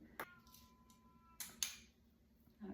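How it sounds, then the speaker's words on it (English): Faint, muffled meows come from a distance, a few brief plaintive cries separated by pauses against a quiet background. "I can hear my cat outside, not happy."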